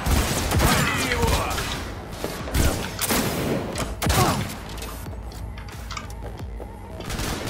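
Gunfire in Cyberpunk 2077: several loud, sharp shots and bursts in the first half, spaced about a second apart, then fading into quieter mechanical clatter and ambient noise.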